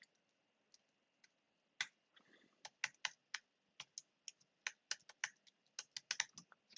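Close, quiet keystrokes on a computer keyboard while a name is typed, irregular sharp clicks that start sparse and then come in a quicker run, with no talking.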